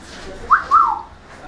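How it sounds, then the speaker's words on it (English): A bird gives a short two-note whistle, a quick rising chirp followed by a longer sliding tone, close by over faint background noise. "Pretty bird."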